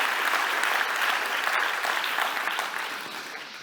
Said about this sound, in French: C'è l'applauso.